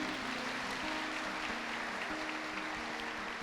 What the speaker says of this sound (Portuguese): Então aplauda a salvação de Jesus.